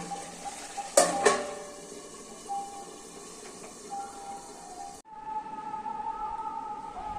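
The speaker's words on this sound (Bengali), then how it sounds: "আমি একটু ঢেকে দেবো, ঢেকে দিচ্ছি।" A lid clanks sharply onto a pan of rui fish kalia, a couple of close metallic knocks, then a steady low simmer continues, muffled after the lid settles.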